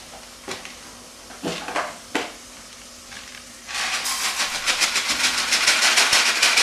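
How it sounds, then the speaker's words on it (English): Arborio rice stirred into softened onion and oil in a pan: a few scattered scrapes at first, then a steady hissing sizzle that swells and grows louder toward the end. "We're just stirring the rice into the onion and the oil"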